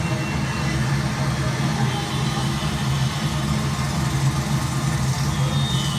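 Continuous road traffic noise, a low engine hum and idling rumble from nearby vehicles, steady and moderately loud with no clear speech.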